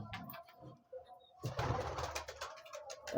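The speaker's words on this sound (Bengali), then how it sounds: "ভালো করে ধরে পায়রাটাকে ছাড়ি দেখুন" A homer pigeon is let go from the hands and flaps off in a sudden loud burst of wingbeats that fades as it flies away, after a few soft handling sounds and some coos.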